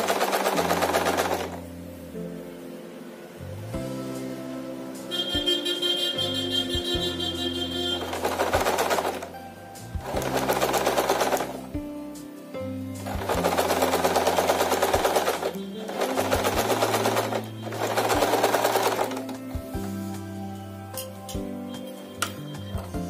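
A sewing machine stitches an Aari work blouse in several loud bursts of rapid mechanical running, with pauses between runs and low tonal hum during the gaps. No one speaks.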